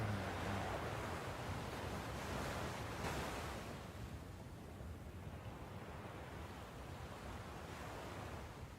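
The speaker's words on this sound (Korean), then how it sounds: "아, 이 파도 소리 너무 좋다." Ocean waves roll and wash in a steady broadband surge, with a swelling crest partway through, heard alone and fairly soft, with a hint of wind.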